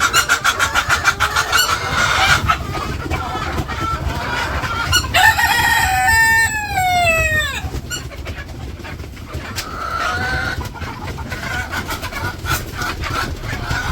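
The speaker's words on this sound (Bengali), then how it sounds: "তো মুরগির পানি নিয়ে আসা পড়ছি, এই যে পানি খাইতেছে।" Chickens fill a village coop with steady clucking and a rooster crowing loudly up close, other birds calling faintly in the background throughout.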